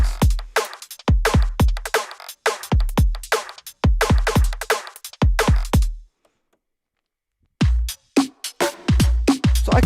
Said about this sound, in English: let me just play you guys just some of these drum patterns from my bass music drums pack